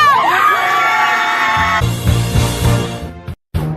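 A crowd at a high school hockey game cheering and whooping, loud and close, with shouting voices layered over a bright rising tone and a brief drop-out near the end.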